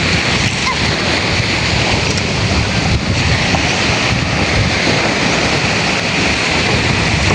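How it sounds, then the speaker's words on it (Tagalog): Strong wind roaring over crashing sea waves out at sea, a dense continuous rush with no pauses, loud and close to the microphone. "Halata po talaga pagka malakas po yung alon."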